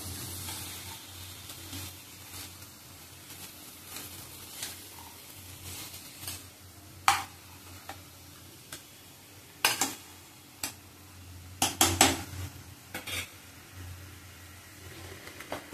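Satputi monsoon bhaji, a wild leafy vegetable, sautéing in a pan: a low, steady sizzle with scattered scrapes and clinks of a spatula against the pan that grow more frequent toward the end, close and without talk.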